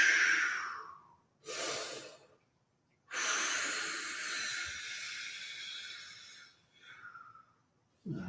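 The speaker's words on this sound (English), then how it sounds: "Breathe and stretch." Deep breaths during a vocal warm-up: a long inhale, a short breath, then a long drawn-out exhale with an airy hiss, followed by a brief closing breath, close and alone.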